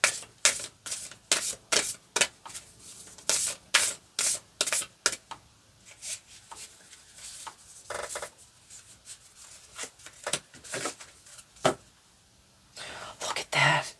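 Cards being shuffled up close in quick riffling bursts, repeated over and over, with soft rustling and a brief whisper near the end.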